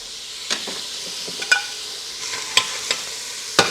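Pea soup being stirred in a pot on the stove, a spoon scraping and knocking against the pot a few times over a steady low simmering hiss, with no voices.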